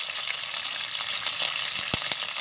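Dry red chillies and curry leaves fry in hot oil on a medium flame for Indian upma, giving a loud, close, continuous crackling sizzle with occasional sharper pops and light clinks of a spoon.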